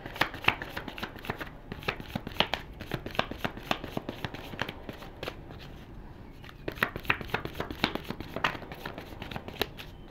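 Tarot cards are shuffled by hand in quick, repeated riffling bursts, close and fairly soft, with a short pause midway before the shuffling resumes.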